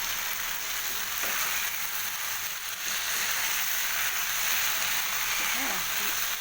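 Food frying in a little ghee with garam masala, a steady broadband sizzle running unbroken throughout at moderate level, with faint clinks underneath.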